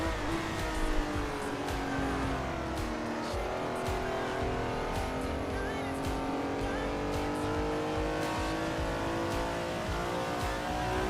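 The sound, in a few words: old car driven on a racetrack in the video game Assetto Corsa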